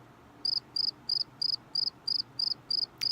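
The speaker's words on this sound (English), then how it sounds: "Yes, crickets." Crickets chirp in quiet night air, a steady series of about eight evenly spaced, high trilled pulses over a faint background hum, moderately near.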